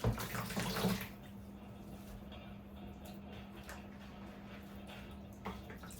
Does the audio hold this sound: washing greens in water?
yes